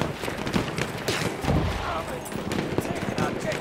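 Machine gun fire in a Battlefield 1 Conquest Assault match, rapid bursts rattling amid a busy wartime battlefield din, with voices shouting over the chaos.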